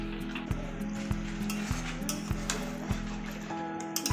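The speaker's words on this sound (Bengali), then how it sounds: "মশলার সঙ্গে মাংসটাকে খুব ভালোভাবে মিশিয়ে নিতে হবে। এই সময় কিন্তু গ্যাসের আঁচটা একটু জোরে দিয়ে দিতে হবে।" Chicken pieces stirred and fried with spices over a high gas flame, a steady sizzle with regular scraping strokes of a spatula against the pan, close and continuous.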